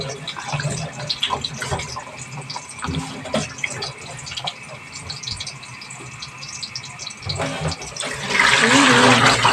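Water pouring and splashing into a cooking pot while preparing adobong takway, a steady trickling wash that swells louder near the end, with faint talk in the background.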